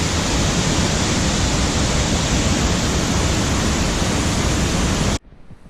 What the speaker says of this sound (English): Another view from down at the bottom of the waterfall